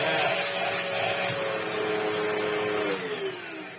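A Zanussi Multi-Cyclone Air Speed 2 vacuum cleaner of 700 watts with a damaged flex runs loudly and steadily close by, a whining motor drone that slowly dips in pitch toward the end.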